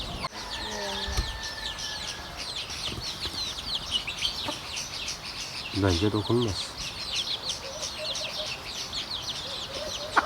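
Chickens cluck and chirp in a busy village barnyard with chicks, with a brief spoken phrase near the start and a sharper squawk partway through.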